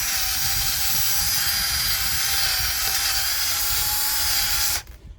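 A high-pitched whining power tool grinds rust off a Ford F350 front brake hub, running continuously and loud at close range before spinning down at the end.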